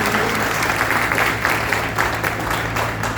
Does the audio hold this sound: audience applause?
yes